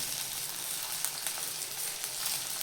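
Green chili thecha with salt and coriander sizzles steadily in hot oil, a dense continuous crackle with small popping bursts, close and moderately loud, no voices.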